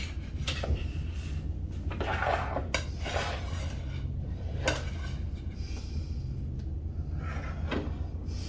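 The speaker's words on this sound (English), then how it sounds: "What you want to do is loosen it from the pan." A cake roll being loosened from its baking pan, with soft scrapes and a few sharp clinks of a utensil against the pan scattered over a steady low kitchen hum. The sounds are quiet and close, and no one speaks.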